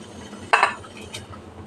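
Grated carrot drops into a pan of boiling water with a short clattering splash, followed by a fainter clink, over a low bubbling background.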